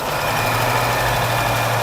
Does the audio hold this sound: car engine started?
yes